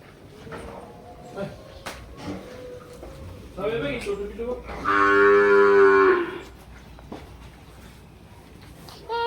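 Cows moo nearby, with one long, loud low moo standing out after shorter calls, over faint background voices and rustling.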